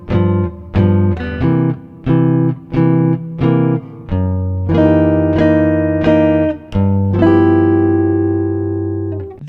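A guitar plays blues chords, a run of short, crisp staccato stabs followed by longer ringing chords, embellishing the move from the 4 chord back to the 1 chord, close and unaccompanied with no talk.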